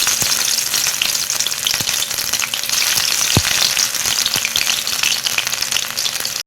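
Green chillies crackle and sizzle steadily in hot oil in a pan for a cauliflower fry, a dense continuous hiss with a few sharp pops, close and loud, no voices.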